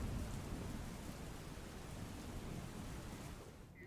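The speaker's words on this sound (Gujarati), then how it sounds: "પંચમહાલના ગોધરા શહેર સહિત પંથકોમાં વરસાદી માહોલ જામ્યો" Rain falls over the town of Godhra in Panchmahal as a faint, steady broadband hiss with no voices, fading slightly at the end.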